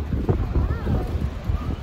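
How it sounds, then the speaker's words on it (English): Wind buffets the microphone on the open top deck of a tourist bus in Barcelona, a steady low roar and rumble running through the whole moment. "But it's really windy on here"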